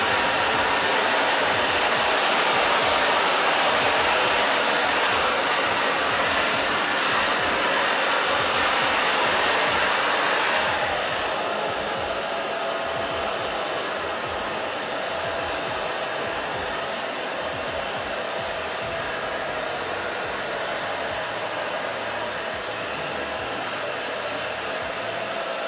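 A hair dryer blow-drying a curly pixie haircut roars loudly and steadily nearby, then drops to a slightly lower, still continuous whoosh partway through, with no voices.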